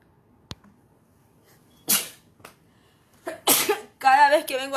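A person sneezes several times indoors, short sharp bursts spaced apart, the last ones louder and close, with a brief voiced sound at the end.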